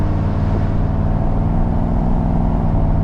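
Supercharged 50th Anniversary C5 Corvette accelerating hard from inside the cabin, a loud, steady low engine drone that holds throughout without a clear break for a shift.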